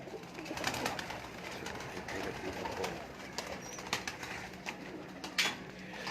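Breeder pigeons kept by hockey-pigeon fanciers coo in a loft in Sheikhupura, a steady murmur of many birds with occasional wing flaps and sharper calls, no talk.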